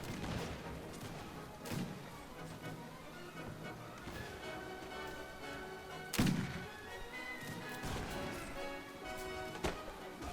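Musket volley fire from massed troops in a Napoleonic-era battle game, a low, dull crackle of distant shots rolling through the scene, with louder thumping reports around the middle and end over steady battlefield noise.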